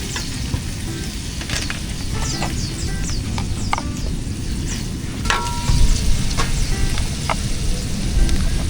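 Cooked chicken placed into a hot pan at a beach campsite sizzles steadily and loudly, with scattered crackles and pops and occasional stirring scrapes throughout.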